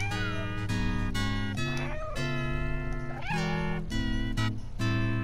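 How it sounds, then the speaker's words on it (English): Repeated cat meows in the video game Stray, loud and close, falling in a rhythmic pattern over a steady lo-fi musical beat with tonal backing. "Try to meow on the beat."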